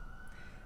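An emergency vehicle siren sounds outdoors as a single sustained wailing tone, faint and distant, heard only for a brief moment.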